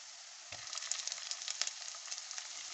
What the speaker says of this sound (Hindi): अब मैं इसमें लहसुन और अदरक डालती हूँ।